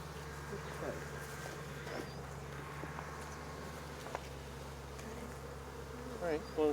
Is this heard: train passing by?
no